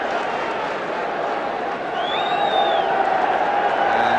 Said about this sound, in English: the applause ringing around the ground for Alex Sabella